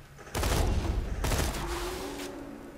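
Rifle fire in the Borderlands 2 video game: two loud bursts of shots ring out, the second trailing off into a fading echo, with no talk.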